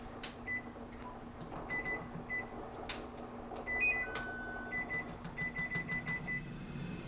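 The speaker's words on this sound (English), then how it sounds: "I'm going to heat up the air fryer. We're going to heat it up to 330 degrees and let it just kind of preheat" An air fryer being set to preheat to 330 degrees gives a series of short electronic beeps and soft button clicks, spaced irregularly over a low background hum, with no speech.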